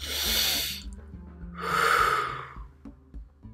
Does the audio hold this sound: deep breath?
yes